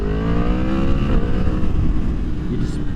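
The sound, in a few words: Yamaha MT-10 motorcycle accelerating on light throttle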